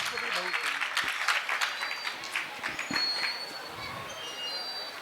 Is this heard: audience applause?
yes